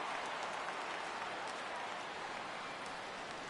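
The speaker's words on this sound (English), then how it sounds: "Crowd gets up for the 3-2." A faint, steady crowd roar rises in a PS4 baseball video game as fans get up for a full 3-2 count, a soft, even wash of stadium noise.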